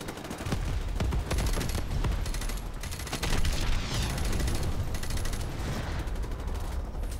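Rapid machine gun fire in Call of Duty Modern Warfare Remastered, dense overlapping bursts of gunshots crackling continuously throughout a night battle, close and loud.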